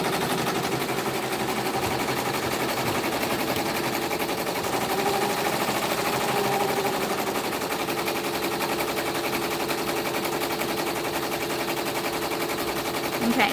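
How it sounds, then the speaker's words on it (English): Embroidery machine stitching out a design on scrap practice fabric, a fast continuous needle chatter that stays steady and fairly loud throughout with no pauses. "it's stitching out beautiful even on this like random practice material"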